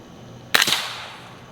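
One suppressed 300 Blackout rifle shot: a single short, sharp crack with a quick echo, fairly close, followed by a soft fading tail over quiet background.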